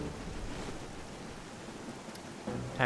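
Soft, steady rain in a Zelda video game hisses in the background, faint and continuous, with a slight bump of noise near the end.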